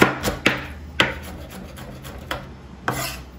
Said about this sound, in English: So you can see they are chopped very fine, and this is Mr. Kurkuri chopping them